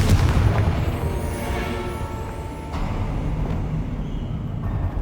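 A Confringo blasting spell goes off in the video game Hogwarts Legacy, a loud booming explosion with a rumbling body, carried over continuous low in-game noise for the whole stretch.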